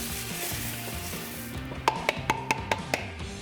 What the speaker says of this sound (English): Now that we're up to a simmer, we're going to dump in our parboiled rice.